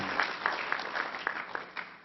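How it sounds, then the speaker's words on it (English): Audience applause at a delegates' gathering, a steady wash of clapping with a few sharper claps standing out, moderately loud and continuous for about two seconds. "give him a round of applause"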